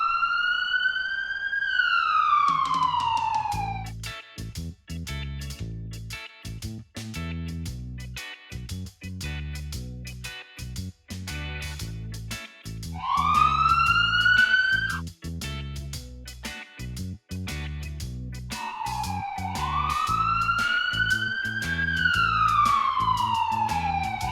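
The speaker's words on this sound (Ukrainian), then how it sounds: "І швидка допомога приїхала." An ambulance siren in a cartoon wails repeatedly in rising and falling sweeps, accompanied by a steady, rhythmic musical beat; no talking.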